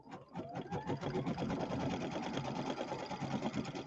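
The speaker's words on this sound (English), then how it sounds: "we're going to sew out step number 1, which is going to be the placement line for our word sew." An embroidery machine stitches out a placement line, a steady rapid mechanical whirring and needle chatter that runs close and loud, alone, through the whole stretch.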